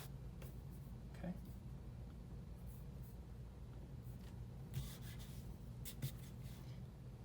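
A pencil moves up and down on paper while shading a walnut shell drawing, giving a faint, steady scratchy rub under a low background hum, with a few light ticks.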